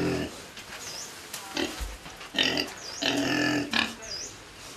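Pigs feed in a ground-floor sty beneath a house in a mountain village, giving repeated short squealing grunts in bursts over steady eating and rustling noise, close by.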